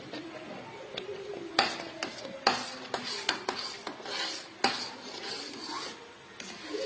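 Mango puree for aamsotto being pushed through a sieve: rough rasping and rubbing strokes with sharp scraping knocks, close and irregular, no voices.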